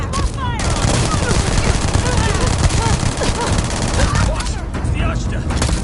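Sci-fi firearms in a Starfield video game firefight: dense, rapid gunfire crackles nonstop and close, with overlapping bursts filling the whole stretch.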